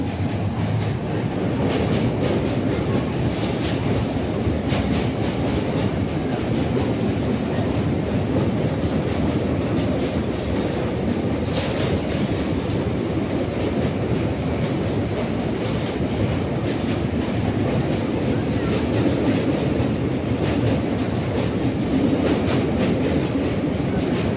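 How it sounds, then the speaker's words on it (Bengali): A passenger train rumbles across the Hooghly river bridge, heard from inside a carriage as a steady, loud roar with rhythmic clickety-clack of wheels and faint rattling throughout, with no talk. "এখন ট্রেন হুগলি সেতু ক্রস করছে দেখো কি সুন্দর লাগছে"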